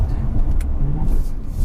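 2020 Toyota Camry TRD with its 3.5-liter V6 and performance exhaust, a steady low engine drone heard from inside the car at a constant cruise, with no clear revving.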